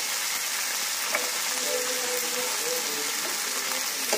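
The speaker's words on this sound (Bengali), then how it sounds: "এটাও একটু ভাজা ভাজা হয়ে যায়।" Peas and softened tomato fry in a pan with a steady, even sizzle that holds at a constant level from start to finish, with faint crackles mixed in.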